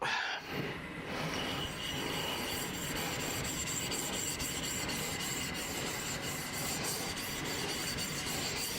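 A knife is worked across a wet 1000 grit Naniwa whetstone, a continuous gritty rubbing scrape with faint rhythmic strokes, fairly quiet and close, with no talking.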